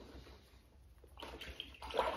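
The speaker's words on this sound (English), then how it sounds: "Rinse my brush" An acrylic paintbrush is swished and rinsed in a small container of water, quiet at first, then soft sloshing and splashing close by.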